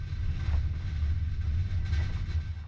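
A Kazakhstan high-speed train rumbles steadily into Almaty 1 station without stopping, with low, continuous rolling noise and faint higher rattles, no voices.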